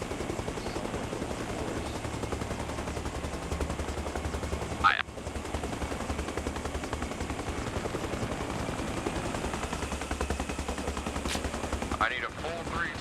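Gunfire in the military shooter game Arma Reforger, a steady din of rattling shots with one sharp, loud crack partway through and another burst near the end.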